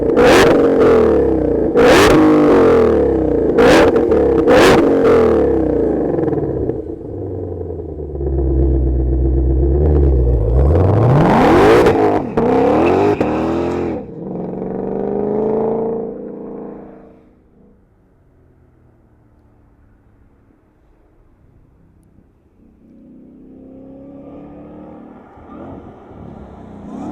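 A supercharged Ford Shelby GT500 engine fires up and revs hard, with loud repeated throttle blips and a rising whine, then the revving drops away to a quieter idle burble.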